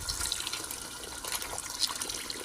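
Water is poured into a pot while cooking rice biryani, a soft continuous splashing trickle, faint and close, with no voices.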